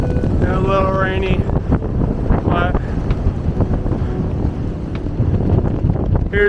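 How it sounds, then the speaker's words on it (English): Gusty wind buffets the microphone in a steady roar on the Appalachian Trail in Virginia on a cold, rainy day, with a hiker speaking intermittently over it. "It's a little windy and a little rainy."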